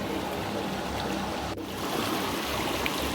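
The Narmada River flows fast over mossy ground, a continuous rushing stream heard up close for a few seconds with no speech.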